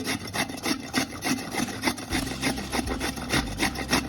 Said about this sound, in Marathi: आता आपल्याला हे खोबरं छान किसून घ्यायचं आहे